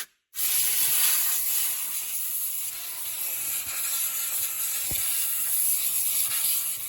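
Compressed air blasts onto a fuel tank part from a petrol 1GR-FE Toyota Land Cruiser 120/150 series. It starts after a brief silence as a loud, steady hiss that holds for several seconds.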